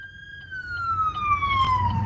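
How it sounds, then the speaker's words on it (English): An ambulance siren wails in a steady descending tone, fairly close and loud over low road rumble, sweeping slowly downward as the vehicle passes. "I hear a siren. Where is it coming from?"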